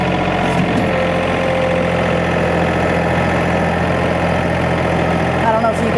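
A tractor engine idles steadily up close, a constant low rumble with a faint knocking pulse that holds level throughout, with no other sounds breaking in.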